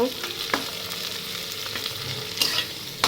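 Onions fry in a pan with a continuous close sizzle, broken by several sharp scraping strokes of a spoon stirring them.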